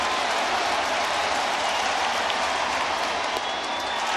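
Yankee Stadium crowd roaring and applauding during a long at-bat against the Astros, a continuous broad cheer of thousands of fans holding steady throughout.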